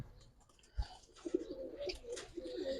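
Giribaz pigeons, a silver-colored pair kept on a rooftop, give soft low coos in a few short bursts, near and fairly quiet over faint background noise.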